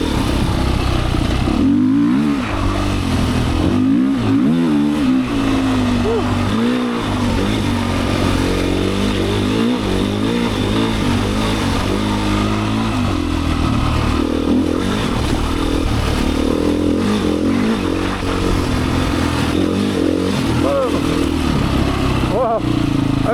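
A Beta 500 dirt bike ridden on a Michigan forest trail loop, its engine roaring steadily and close up, the throttle surging and easing in constant rhythm with rattles and clatter over rough ground for the whole stretch.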